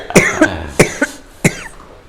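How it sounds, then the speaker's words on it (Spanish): A person at a philosophy café discussion coughs several times in sharp, close bursts with brief pauses between them, and no speech. "estornudo, tos."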